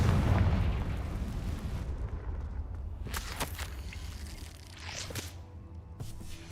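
A Confringo spell explosion in the video game Hogwarts Legacy, a deep booming blast at the start that rumbles and fades, followed by a few sharp crackling bursts and pops, with no talking.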